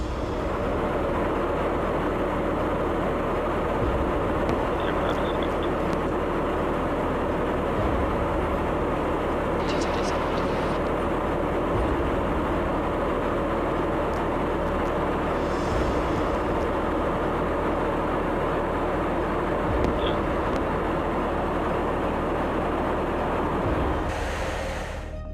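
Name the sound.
US Air Force KC-135 Stratotanker aircraft in flight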